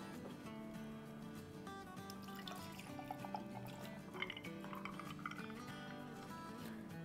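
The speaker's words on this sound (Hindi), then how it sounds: "इसके अंदर हम दूध डाल देंगे।" Cold milk being poured into glasses for iced dalgona coffee, a soft liquid trickle sitting low beneath steady background music.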